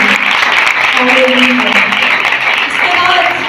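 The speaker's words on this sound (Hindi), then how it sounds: "सबसे पहले खुदावंद के जलाल के लिए तालियां बजाइए यहाँ पर" Congregation clapping steadily at a youth revival worship service in a church, a dense wash of applause filling the room, with faint tonal voice or music traces running underneath.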